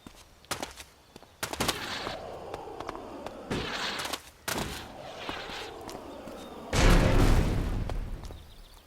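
A plasma weapon fires in the ELEX video game: sharp repeated shots crackle in irregular bursts, then a heavier, louder blast rumbles near the end.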